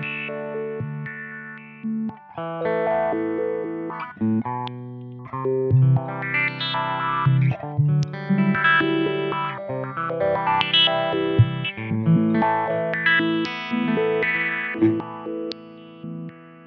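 Guitar through an EarthQuaker Devices Spatial Delivery envelope filter in random sample-and-hold mode, chords and notes jumping between stepped filter sweeps that sound choppy and unpredictable, steady playing throughout with no voices.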